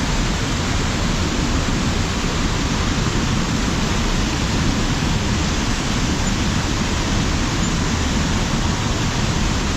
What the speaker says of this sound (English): Obviously, it's a big waterfall here